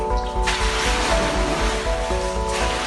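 Water in an indoor swimming pool sloshes and surges heavily as the building sways in an earthquake, a steady loud rushing wash with a low hum beneath, without speech.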